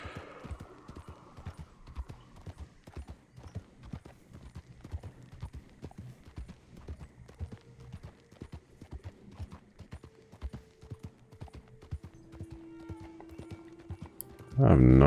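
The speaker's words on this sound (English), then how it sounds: "Oh, this is my event horse." An event horse in a video game clip-clopping along in a steady stream of hoof falls, with brief tonal game sounds mixed in and a sudden loud burst at the end.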